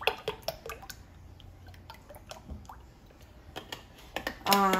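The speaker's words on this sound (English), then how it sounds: "I'm just using a whisk to mix it all together." A whisk mixing eggs, milk and heavy whipping cream in a bowl for Christmas Eve cooking, giving scattered light clicks and wet taps at an irregular rhythm, close and fairly quiet.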